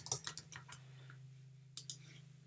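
Keys clatter on a computer keyboard while text is typed into a website builder, with quick bursts of clicks, a pause, and then a couple more taps over a steady low hum.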